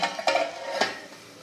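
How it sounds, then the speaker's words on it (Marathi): Metal clanks as a lid goes onto a pan of fasting-style potato sabzi with crushed peanuts, with two or three sharp, fairly close knocks followed by a faint quiet background. "हे 2 मिनिटं झाकण ठेवते"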